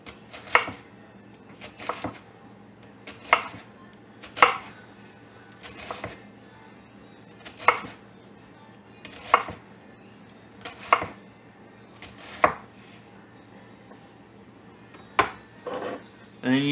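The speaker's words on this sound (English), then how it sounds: "cut it in thin slivers. If you have a mandolin, you can use it for this. I have one, but I actually prefer to do it by hand" A knife cutting red onion by hand into thin slivers, each stroke a crisp thud on the board at slow, spaced intervals, about a dozen close chops with quiet gaps between.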